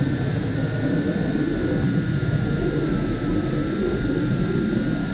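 A Tarantula X6 hexacopter drone with a camera mount hovers and descends nearby, its motors giving a loud, steady, unbroken buzzing whine with a rough low rumble, and no talk.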